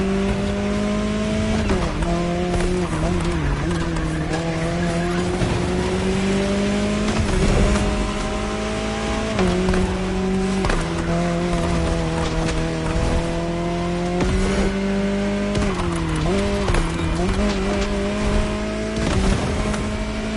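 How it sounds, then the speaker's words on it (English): A Jaguar CX-75 concept car races in The Crew Motorfest, its engine holding a loud, steady drone that rises and dips with repeated gear shifts and throttle changes, with occasional tire noise and no voices. "Jaguar CX-75 concept"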